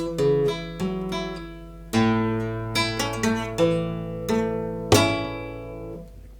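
Flamenco guitar playing an alegrías escobilla resolution phrase: plucked notes and quick arpeggios with sharp strummed accents near 2 and 5 seconds, thumb strokes across the strings, played solo and close with no talking.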